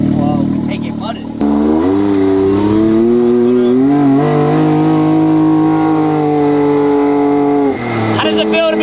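A street-legal Can-Am side-by-side, sand and mud on it, drones loudly while riding, its engine holding a steady rising and falling hum for several seconds with people talking briefly before and after.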